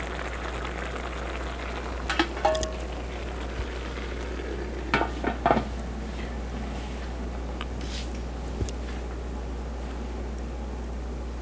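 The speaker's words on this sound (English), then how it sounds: "Boy, that sounds like it's really cooking now" Food fries and sizzles in a pan on a home stove with a steady hiss, with a few sharper crackles and pops rising above it, and nobody talking.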